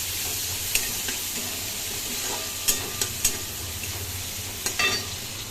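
Onion and black cumin fry in a little oil in a wok, giving a loud, continuous sizzle with a few sharp scrapes and knocks from stirring.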